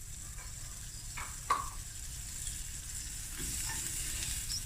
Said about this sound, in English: now I'm going to add a nice fat knob of butter.